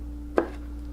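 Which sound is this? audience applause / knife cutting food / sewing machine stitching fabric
knife cutting food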